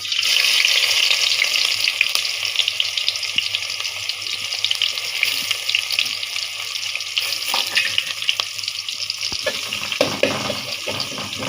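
Onion and garlic frying in oil in a cooking pot, a steady close sizzle with occasional stirring scrapes and crackles throughout.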